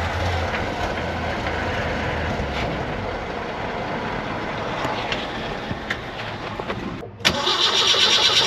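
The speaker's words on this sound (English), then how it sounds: "Yeah, we stalled again." Car engine cranking and running roughly in the desert, a loud rumbling churn that cuts out sharply near the end before a jolt of noise, heard close without speech.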